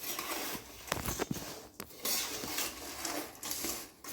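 A spoon works through a pan of raw banana farali chivda, giving close, continuous rustling and scraping with a few sharper knocks against the metal.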